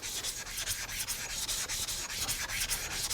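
A kitchen knife being sharpened against the 400-grit platen of a belt sander gives a steady, loud abrasive rubbing hiss with slight rhythmic pulses as the blade passes. No one talks over it.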